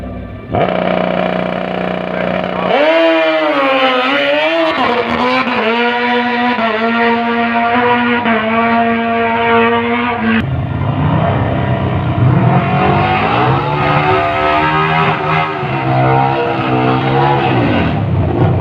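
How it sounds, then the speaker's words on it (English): At the Riverland Nationals drag racing meet on the Mildura Sunset Strip, a Harley drag racing motorcycle makes a solo pass. Its engine runs loud and close, rising through hard revs and gear changes with a strong, sustained roar. "George has got a problem with his bike, so Robbie Church will get a solo pass on this run"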